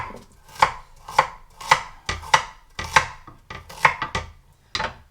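A knife chops carrots on a board in about nine crisp, evenly spaced strokes, close and loud, with nothing else heard between them.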